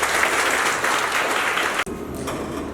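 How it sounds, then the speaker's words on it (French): Applause from an inauguration audience at a performance space fills the room as a steady, dense clapping wash that cuts off abruptly near the end, leaving quieter room sound. "vous demander de bien vouloir"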